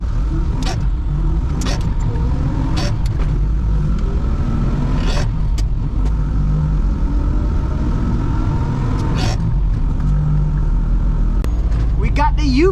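A UPS delivery truck drives up on a farm, its engine a loud, continuous low rumble throughout, with a few faint clicks and talk over it.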